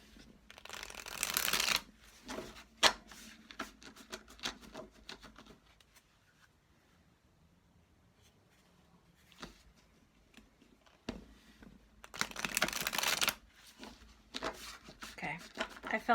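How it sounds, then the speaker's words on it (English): Two bursts of tarot-style oracle cards being riffle-shuffled, near and crisp, separated by quieter handling and soft taps. "And I always shuffle until I feel that stopping point"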